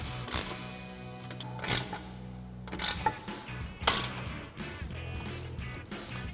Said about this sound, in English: we can go ahead and grab our 4mm Allen head socket on our ratchet and tighten these down